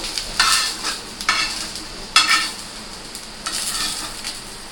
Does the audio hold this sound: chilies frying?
yes